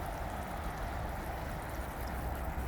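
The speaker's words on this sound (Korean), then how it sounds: "하늘 각도로 해서 최대한 물방울이 많게 해서, 자, 이렇게 비가 내리듯이 이렇게 주는 방식" Water from a hose aimed skyward patters down like rain onto a field of cabbage crops, a steady, even hiss of falling droplets with no talking.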